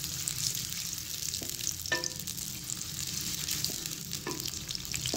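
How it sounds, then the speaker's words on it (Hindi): Onions fry in hot cooking oil for an aloo recipe, with a steady, close sizzle and a few light clinks of stirring against the pan. "कुकिंग ऑयल गर्म हो गया है, अब मैं इसके अंदर प्याज ऐड करूँगी और प्याज ऐड करने के बाद मैं इसे अच्छे से भून लूँगी।"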